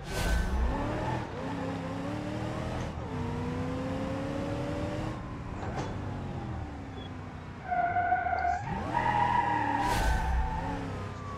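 A car in a video game police chase screeches its tyres over a steadily revving engine, with long sliding squeals rising and falling in pitch, loud and close, no voices.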